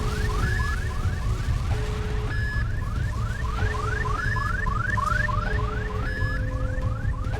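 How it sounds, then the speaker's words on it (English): A Half-Life Episode 2 base alarm heard in The Beginner's Guide game, a steady looping electronic warble of rising sweeps over a continuous low rumble, loud and without voices. "Hey, it's the Half-Life Episode 2 alarm when the Striders were getting close to the base."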